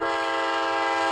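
A train in the Railroad Odyssey video game sounds a sustained, loud, steady horn blast as it approaches a station, a rich chord of tones held throughout with no talking.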